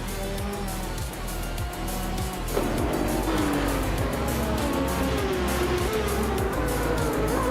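A 2017 Aston Martin DB11 races in a video game, its engine droning steadily at high revs with rising and falling pitch through gear changes and corners, occasional tire squeal, loud and continuous without talk.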